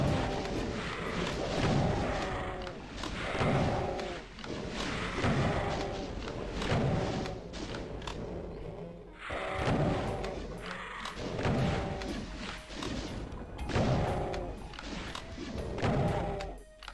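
Shotgun blasts in DOOM 2, a series of heavy booming shots at roughly even intervals with brief gaps, loud and punchy, mixed with game sounds.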